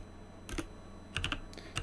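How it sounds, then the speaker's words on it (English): Typing on a computer keyboard while entering a command on an Ubuntu server, with a few short quiet bursts of key clicks separated by pauses, close and soft. "if I can type that correctly"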